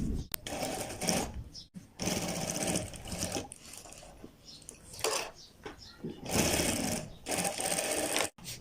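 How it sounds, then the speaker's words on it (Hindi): Sewing machine stitching a kurta, running in several bursts of rapid rhythmic needle clatter separated by short pauses, close and fairly loud. "उसके बाद अब हम यहाँ इसकी स्टिचिंग अप्लाई करते हैं।"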